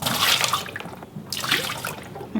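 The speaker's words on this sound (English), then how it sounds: "when there's about a minute left, I dump all the hot water out" Hot water poured out of coffee mugs into a sink, a steady splashing stream with a brief pause before a second pour, close and moderately loud.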